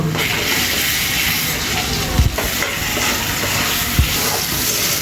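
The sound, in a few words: stirring garlic, cumin, coriander and garam masala paste frying in a pan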